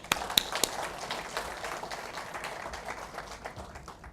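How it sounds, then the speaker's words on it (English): Faint audience applause at a speech in a cultural centre hall: scattered, distant clapping with a few sharper claps near the start, thinning out over several seconds. "let's give him a big round of applause"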